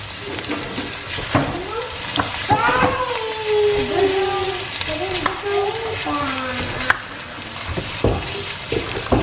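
Chopped onions fry and sizzle in a pan for baingan bharta, a roasted eggplant dish, with stirring and clinks close by while a person talks over the cooking.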